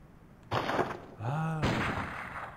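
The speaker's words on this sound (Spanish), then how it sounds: "Disparo el arma con el L1" Two gunshot blasts fire in the Bloodborne PSX fan demake on PlayStation 1, about a second apart. Each is a sharp retro burst with a short tail, and a brief voiced sound falls between them.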